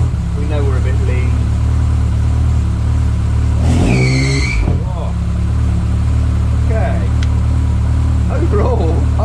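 A Ford Escort Mk1 with a Pinto engine and throttle body conversion runs steadily with a loud low hum, running slightly lean and idling high, briefly revving up and down in the middle while voices murmur faintly over it.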